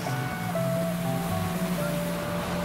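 A fire hose fed by a fire engine sprays collected rainwater onto a roof, making a steady, even rushing hiss with a low rumble underneath and no voices.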